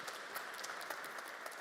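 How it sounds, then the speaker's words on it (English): A conference audience claps to welcome a panel onto the stage at a manufacturing open house, a brief, even wash of applause heard at a distance and fairly faint. "So please welcome everybody onto the stage."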